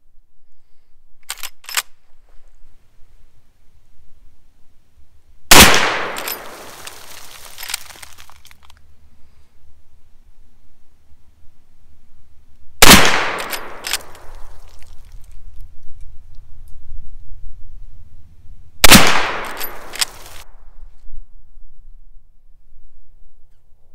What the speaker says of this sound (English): how about 3 shots standing from 50 yards at our human silhouette target?